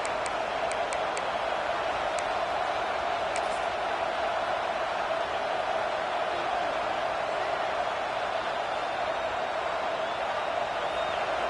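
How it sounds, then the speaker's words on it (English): A football stadium crowd roars steadily and loudly for the home defense, a dense, unbroken wall of cheering voices that holds at the same level throughout. "The roar of the crowd trying to fuel this defense to keep them pinned in their own end"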